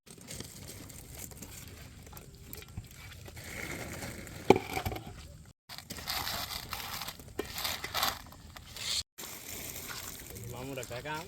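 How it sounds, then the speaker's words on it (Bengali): Boiled potatoes mashed by hand into a Bangladeshi street-food bhorta, giving a steady, close run of soft squishing and crushing with a few short pauses and background voices. "আমরা সুন্দর করে আলুগুলো মাখিয়ে নিতেছি ভর্তার জন্য।"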